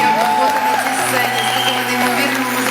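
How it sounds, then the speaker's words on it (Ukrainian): Loud applause and cheering from a concert audience in an ornate Kyiv hall during a live acoustic show with strings, crowd noise blending with music tones and a voice over it. "Давайте гучні оплески для Юлі"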